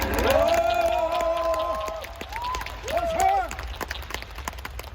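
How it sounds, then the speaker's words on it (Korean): An audience at a leadership training seminar in Bangkok gives applause that sits in the background, partly under a voice speaking clearly up front, and trails off toward the end. "우리 림브롱 회장님 이하 임직원분들께 감사의 박수를 보내주셨으면 감사하겠습니다."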